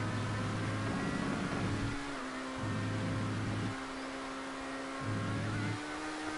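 A GTA Online stunt race car engine holds a steady high-revving drone that drops and climbs in pitch across repeated cycles, close and constant against a noisy hiss.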